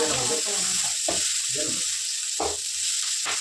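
Onions and tomatoes frying in a pan for mutton curry, with a loud, steady, close sizzle running throughout while a person talks intermittently over it.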